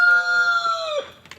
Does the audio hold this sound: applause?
no